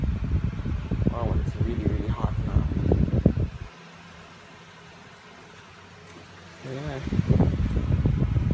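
An electric fan in an apartment bedroom runs on its high setting, a steady broadband whoosh with a low hum that is mostly masked by close conversation and stands out alone for a few seconds.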